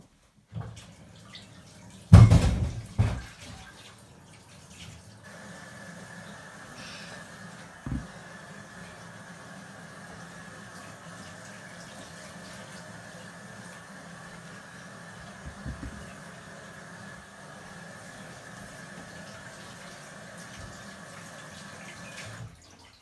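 Tap water running over pumpkin pieces being washed: a steady, moderate stream of water flows throughout, opening with a loud clatter and splash, with occasional soft knocks as the pieces are handled.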